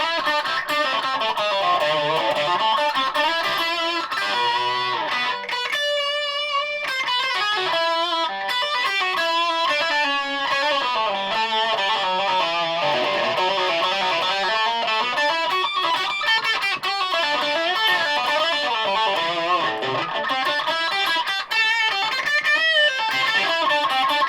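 Japanese Ibanez PGM electric guitar played through a bright distortion effect, a continuous run of driven notes and chords, loud and close, with no talking.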